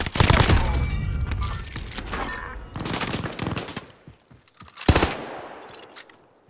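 Bursts of automatic gunfire in a battle royale video game, loud and dense at first, then sparser volleys and a sharp late shot fading out.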